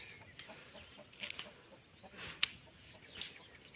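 Chickens and roosters cluck softly and intermittently at a distance in a village, with a few sharper calls rising above a low outdoor background.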